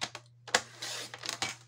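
Scissors snipping a scrapbooking paper craft piece, a few sharp close clicks and a short crisp rasp of cutting, quiet background, no talk.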